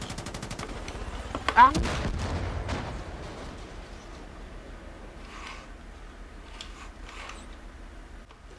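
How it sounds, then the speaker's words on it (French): Bursts of gunfire in Far Cry 5 target the player, a rapid cluster of sharp shots early on with a brief exclamation, then trailing off into sparser, more distant cracks over a low ambient bed. "Quelqu'un me tire dessus."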